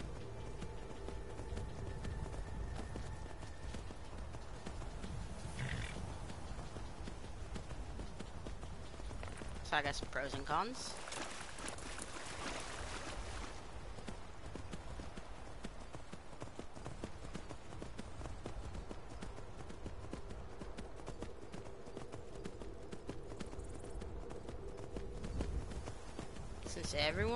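A horse's hooves clip-clop in Skyrim, a steady rhythmic plodding beneath someone talking over it, with other game sounds mixed in.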